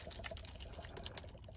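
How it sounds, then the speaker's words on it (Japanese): Waste model-paint solvent poured liberally over a plastic model to strip its paint, a faint, close splashing trickle with small irregular drips and glugs. "この廃液は模型用の、まあ、こうやってもうドボドボとかけちゃいます。"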